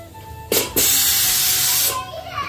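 A pressure cooker vents steam in a loud, steady hiss lasting just over a second, preceded by a short sharp burst and tapering into softer sputters, with faint chatter in the background.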